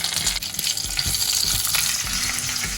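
Mustard seeds, chana dal and curry leaves fry in hot oil for a tomato chutney: a continuous sizzle broken by soft, regular stirring knocks.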